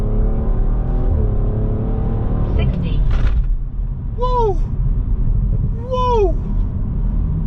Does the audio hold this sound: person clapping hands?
no